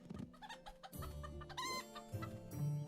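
Chickens cluck in a cartoonish farming video game, a few short calls over busy game music and effects, close and fairly loud.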